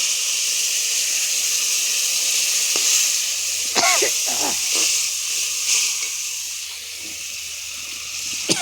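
Spices hit a hot frying pan and sizzle with a strong, steady hiss close to the mic, joined by a few brief pops and spatters as it continues.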